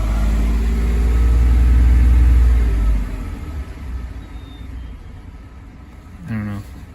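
A Ford F-150 truck engine, running with a charging system fault, gives a short deep rev that swells for a few seconds and then falls back to a low idle rumble, with a brief voice near the end.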